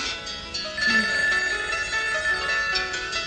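A telephone rings in a room, a steady, loud electronic ringing with a sustained tone that carries on without a break.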